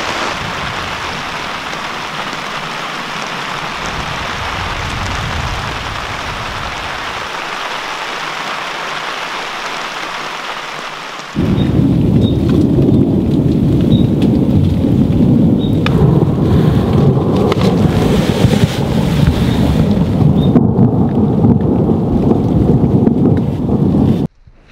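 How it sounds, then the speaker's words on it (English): Heavy rain from a thunderstorm in the Labrador wilderness hisses steadily, then grows suddenly louder and fuller partway through as a downpour hammers the surface, with low rumbling underneath and no voices. "What a whopper of a thunderstorm that was."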